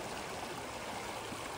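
Creek water running over rocks in an Alabama creek, a steady broad rushing babble, continuous and even, moderately close with no talking.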